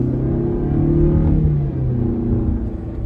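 Omoda C9 SUV with an 8-speed gearbox accelerating in sport mode, a steady near engine rumble and rising drone heard from inside the cabin, with a slight dip as the gear changes partway through.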